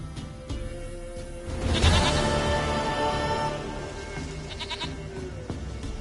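A goat in the video game Witcher 3 bleats repeatedly and fairly close, its wavering, nasal cries standing out over a steady ambient game background with no talking.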